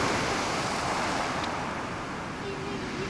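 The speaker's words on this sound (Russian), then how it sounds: "Волна накатывает." Small sea waves wash onto a beach of very fine pebbles, almost like sand, on a chilly day; a steady, broad rush of surf with light wind noise, continuous and moderately close, no voices.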